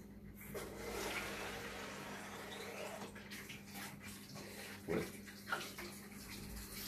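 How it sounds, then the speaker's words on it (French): Water poured onto a Porsche Cayenne during polishing: a faint, continuous splashing rush with a low hum underneath and a couple of brief thuds near the end, no talking. "Alors là, je mets de l'eau."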